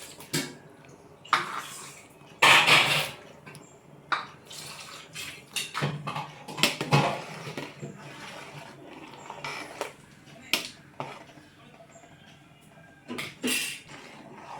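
Chopped beans and carrots tumble into a cooking pot of coconut-milk rice porridge, giving clattering clinks and splashy thuds in uneven bursts, close and moderately loud, with faint talk in the background.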